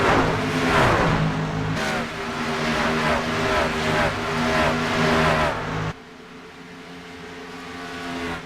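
NASCAR Truck Series engines roar in an iRacing race at Kansas Speedway: loud, close, droning engine notes from several trucks rise and shift in pitch, then drop suddenly near the end as the pack moves on.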